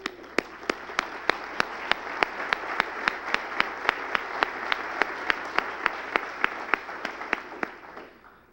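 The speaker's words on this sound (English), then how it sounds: "Would all of you rise for some applause?" Members of an Illinois political gathering applaud together in a hall, a continuous bed of clapping punctuated by one nearby pair of hands striking loud, evenly spaced claps, with the applause tapering off at the end.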